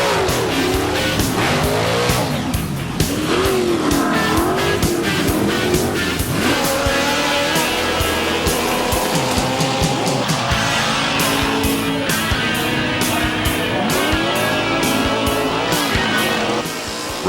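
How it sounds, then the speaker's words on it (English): Several race cars roar past at full throttle, engines revving and falling with Doppler sweeps, tires squealing and skidding through the corners; loud and continuous throughout, no talk. "Race cars come in all shapes and sizes."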